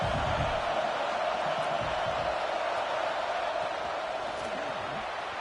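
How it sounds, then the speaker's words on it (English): A stadium crowd roars in the NCAA 26 college football video game, a steady dense wash of noise with faint cheers mixed in, loud and continuous throughout. "here comes the noise. This crowd is trying to inspire this defense to make a big red zone stop."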